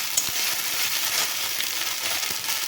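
Spice paste with tomato and garlic for prawn malai curry sizzles and fries steadily in a pan, a close, continuous crackling hiss with occasional stirring scrapes and no talking.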